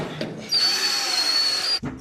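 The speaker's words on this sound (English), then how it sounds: "Push on the drill." A power drill runs at a steady high whine for about a second and a half, starting and stopping abruptly, loud and close, during a home renovation project.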